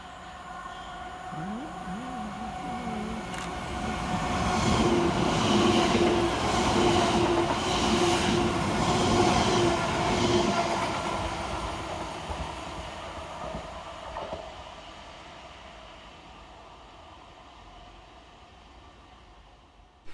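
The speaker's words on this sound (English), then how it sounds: "Passing through right behind that will be 725-7, working 2H18 for Greater Anglia from London Liverpool Street through to Cambridge North." A Greater Anglia Class 720 electric passenger train, 720-7, heading from London Liverpool Street to Cambridge North, passes through Rectory Road station on a diversion, rumbling and clattering over the rail joints as it swells to a peak and slowly fades away.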